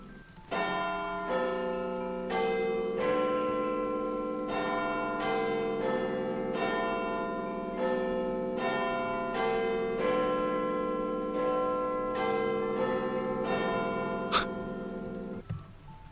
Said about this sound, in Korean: 이게 빅벤이 12시 정각이 됐을 때 내게 되는 소리라고